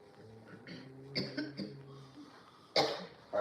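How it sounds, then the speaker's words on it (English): A few sharp coughs close by, a quick cluster then one more burst after a pause, with faint background murmur. "You can cough in the camera."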